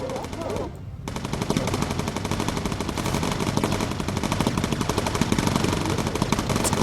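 Sustained rapid machine gun fire from bomber turrets in the WWII air combat game Bomber Crew, loud and continuous with a dense rattling rhythm over engine drone, briefly dipping at the start before roaring steadily on.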